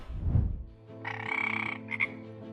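An Amazon glass frog croaking, a low burst followed by a nasal, buzzing call with a short repeat, close and clear with nothing else heard.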